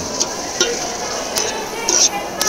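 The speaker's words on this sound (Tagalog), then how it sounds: "Halo-haloin lang na natin hanggang pumantay sa mga mix" Cooked mung beans being stirred in a pot, with a spoon scraping and clinking against the metal several times at an irregular pace over a faint background hiss.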